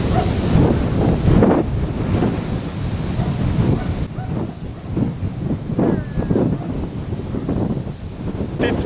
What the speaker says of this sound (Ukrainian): Вітер не дає рибачити взагалі